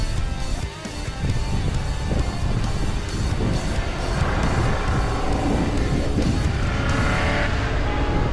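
An off-road race vehicle in a Blizzard Baja endurance race roars past with a loud, sustained engine drone mixed with wind noise, building and shifting as it approaches.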